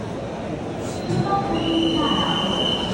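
A metro train moves through a station with a loud, continuous rolling rumble, and high, drawn-out wheel squeals rise and overlap as it goes by.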